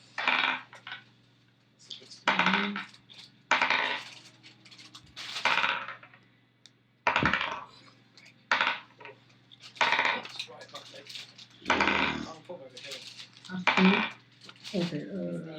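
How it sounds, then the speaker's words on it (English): A single die rolled repeatedly for a Dungeons & Dragons 5e game rattles in about eight separate short clattering bursts, each a sharp, close rattle separated by brief pauses over a low steady hum. "Let's hear them dice rattle."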